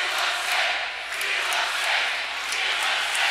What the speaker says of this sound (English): You hear the Rams cheering about states.